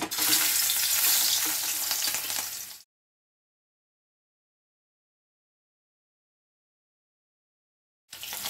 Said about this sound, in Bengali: তেলটা গরম হয়ে গেছে, মাছগুলো ভাজবো।